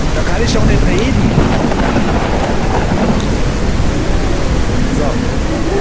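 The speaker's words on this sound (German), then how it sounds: "Ja, es ist also ein richtiges Gewitter." A thunderstorm in the Bigfoot video game roars with heavy, steady rain and deep rumbling thunder, loud and continuous throughout.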